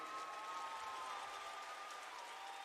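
Audience at a Year 9 reveal livestream cheering and applauding in a steady, unbroken wash of clapping and crowd noise, fairly faint and distant, with no voices standing out.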